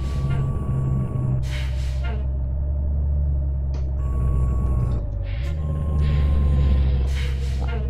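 Truck air brakes in Euro Truck Simulator 2 as a truck descends a mountain road at night. Several short, loud bursts of pneumatic hiss are spaced across the stretch over a constant low engine rumble.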